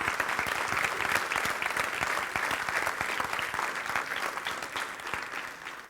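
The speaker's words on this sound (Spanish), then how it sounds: "si le vas a aplaudir al Señor," Dense, steady applause from a church congregation during a Spanish-language sermon, many hands clapping loudly and continuously for about six seconds with no voice over it.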